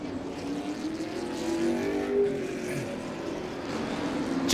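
Late model stock cars roar into turn one at an oval track during a race, a continuous, dense engine drone holding steady as the pack charges through the corner.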